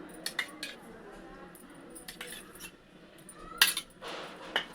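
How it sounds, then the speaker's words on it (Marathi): Spoon mixing a tandoori marinade of yogurt, lemon juice, black pepper and spices in a bowl, with light metallic clinks and taps in scattered bursts nearby and soft wet stirring between them. "आता हे छान असं मिक्स करून घेऊया"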